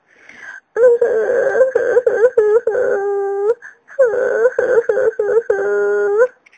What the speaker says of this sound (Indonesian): Tapi tiba-tiba ia mendengar suara di balik semak-semak. Suaranya kok seperti suara tangisan ya.